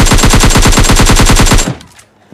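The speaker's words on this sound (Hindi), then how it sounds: "यहाँ पर मैंने गोली चलाई थी पर एक भी कनेक्ट नहीं हुई" Rapid automatic gunfire in the PUBG Mobile Lite battle royale game, a loud sustained burst of about a dozen evenly spaced shots that stops abruptly and leaves a short quiet tail.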